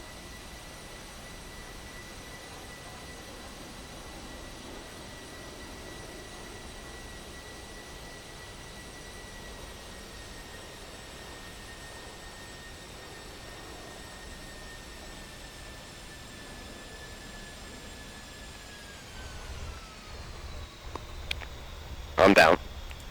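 An A-10 jet touching down on a runway in DCS: a steady jet engine whine with a high tone that drops in pitch as it slows, ending in a few louder bumps and thuds.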